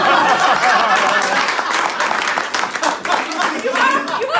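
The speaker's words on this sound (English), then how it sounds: "You got an applause break." An audience breaks into sustained applause at a live show with women writers, dense clapping throughout at a steady level, with a little laughter and chatter mixed in.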